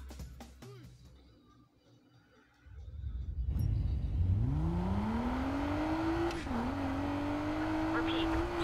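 A black Audi S5 in the video game NFS Payback revs up from quiet, its engine note climbing and then holding a steady drone, with game dialogue and effects around it.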